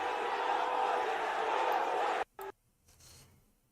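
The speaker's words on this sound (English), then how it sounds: "The crowd fucking pumped for that, bro." A live wrestling crowd at WWE SmackDown in Saudi Arabia roars loudly and steadily for about two seconds, then cuts off abruptly, followed by a brief burst and faint scattered noise.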